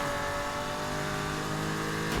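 A BMW M2 engine in Need for Speed Heat drones steadily at high revs, loud and close, with a slight pitch shift as it drives, no voices over it.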